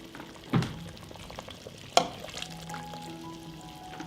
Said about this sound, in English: From this moment, fry the pepper for only 1 minute.